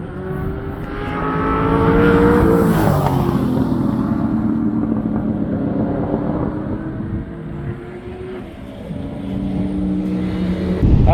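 A 650 HP LS3-engined supercar roars past on a track, its revving engine swelling to a loud peak, then holding a strong whine as it pulls away, with no talk.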